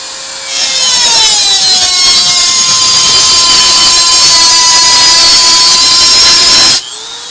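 Loud, continuous whine of an angle grinder's cutting disc biting through metal for an HHO generator build, a sustained high-pitched scream with a gliding tone, starting abruptly and cutting off near the end, no talking.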